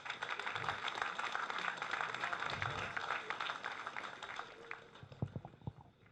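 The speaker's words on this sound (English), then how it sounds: "A round of applause for them," Audience applause at an LAPD graduation ceremony, a dense steady wash of many hands clapping that thins and tapers off toward the end, with a few isolated claps.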